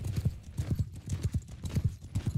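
A horse gallops into battle in Mount and Blade, its hooves pounding in a steady, rapid triple-beat rhythm, close and loud with no talking.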